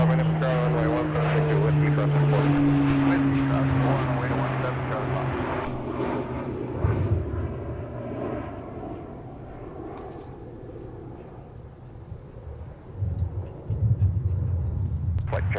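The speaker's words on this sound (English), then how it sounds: "that was Delta 377 departing to Anchorage with the A321neo that just took off on the" Delta Airbus A321neo departing Anchorage-bound from the south parallel runway at Minneapolis–St. Paul airport: a loud, steady jet engine roar that slowly fades with distance, with people talking over it.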